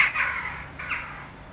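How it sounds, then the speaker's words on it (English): Crows cawing outdoors, two harsh, drawn-out caws fairly close by, with no voices over them. "the crows are surrounding me"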